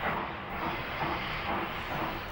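A train locomotive starting up for a railway journey toward Kimberley in southern Africa gives off a steady, moderately loud hiss of steam with a low rumble beneath, continuous and without clear puffing beats.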